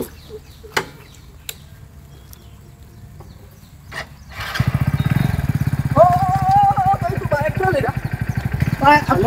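A motorcycle engine fires up after a few quiet seconds, then settles into a steady, close, throbbing idle, with voices talking over it.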